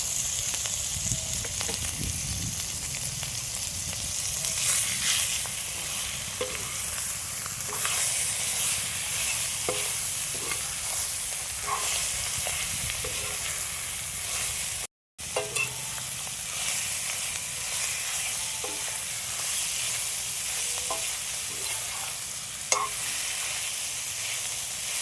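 Half a kilo of mutton for a mutton masala sizzles loudly in a pan, a dense continuous frying hiss broken by scraping stirs and brief clicks, with a momentary dropout midway.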